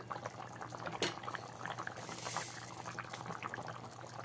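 Water bubbles at a steady boil in a cooking pan while pumpkin curry is prepared, a soft continuous simmering gurgle with a faint clink of utensils near the start.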